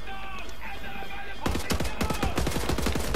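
Automatic rifle gunfire in the video game Wolfenstein: The New Order, a loud burst of rapid shots starting suddenly after a quiet moment and rattling on with dense, irregular cracks to the end.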